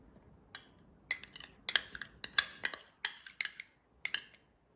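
A utensil clinks and scrapes against a bowl in about a dozen sharp, uneven taps while egg salad is mixed with cheese and ketchup, heard up close with no voices.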